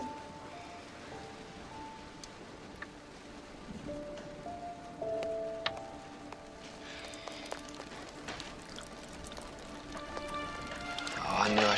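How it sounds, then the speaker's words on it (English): Rain falling outside during a worsening storm near a barn, a steady broadband patter throughout with scattered drips and tapping, growing heavier toward the end, while people talk over it. "It's raining outside."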